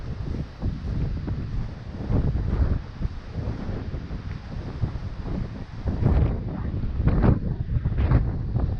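Strong hurricane wind buffets the microphone, a loud continuous rumbling roar with sharper gusty bursts toward the end and no voices.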